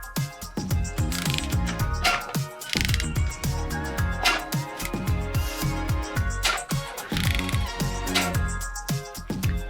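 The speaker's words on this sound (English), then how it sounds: "Finally, we'll torque all the hardware." Torque wrench tightening cargo cage hardware on a bicycle fork gives a dense run of close ratcheting clicks and metallic taps that continues steadily throughout.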